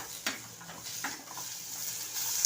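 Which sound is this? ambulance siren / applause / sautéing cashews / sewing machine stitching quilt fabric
sautéing cashews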